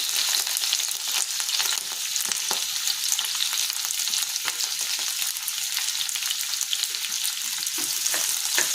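Chopped onions sizzle and fry steadily in a hot pan for a Chinese-style liver stir fry, a dense continuous crackle with no talk.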